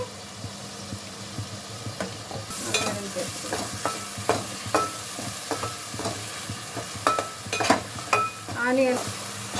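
Onion paste with turmeric, mint and curry leaves frying in a pan under a steady sizzle, with repeated spatula scrapes and stirring strokes that grow busier partway through, close.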